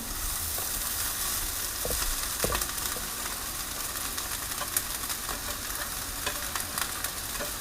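Rice being stir-fried in a hot pan for fried rice gives a continuous sizzle, broken by scattered scraping and clinking strokes of the spatula, close up and with no talk.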